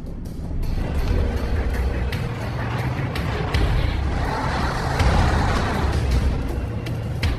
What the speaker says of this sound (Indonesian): ia mengendarai truk bermuatan bahan bakar melaju ke arah segerombolan zombie